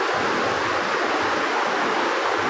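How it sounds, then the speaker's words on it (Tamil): River water pours over a small check dam like a little waterfall in dense forest, a loud, continuous broadband rush that stays steady and close throughout. "இங்கே தான் ஆறு கீழே தண்ணி போகுது."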